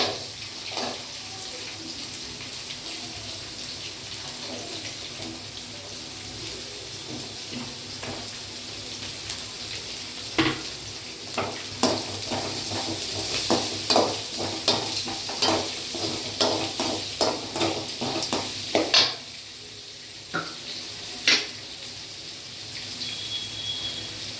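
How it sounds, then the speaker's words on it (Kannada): Green chillies and onion frying in a pan for poha, with a steady low sizzle and repeated scraping clicks of a spoon stirring, busier in the second half; close by, no talk. "ಹಸಿಮೆಣಸಿನ್ಕಾಯಿ ಫ್ರೈ ಆಗಿದೆ"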